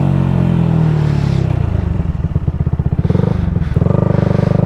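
A 2014 Yamaha YZF-R125 motorcycle rides through a storm with a loud, close engine drone and heavy wind buffeting, the revs rising in a pulsing, throbbing rhythm as it accelerates.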